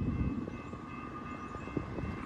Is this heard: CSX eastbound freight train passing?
yes